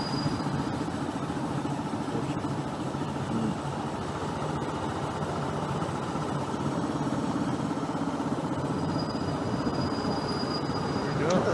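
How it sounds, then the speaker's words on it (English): A miniature railway train at Pembrey rumbles and clatters steadily at close range, a continuous mechanical drone with faint squeaks, no voices. "so that's the Miniature Railway"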